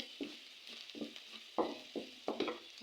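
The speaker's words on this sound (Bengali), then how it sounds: "আমার পেঁয়াজগুলো বাজা হয়ে গেছে" Onions frying in a pan for a tengra fish curry, stirred in short scraping strokes over a soft steady sizzle, close and quiet, about six distinct stirs.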